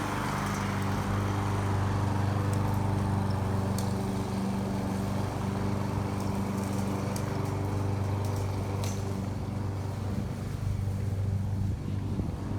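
An orange lawn mower's engine drones steadily and loudly throughout, with a constant low hum and some wind-like rushing noise.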